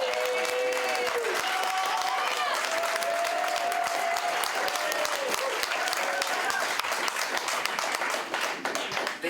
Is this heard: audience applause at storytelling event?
yes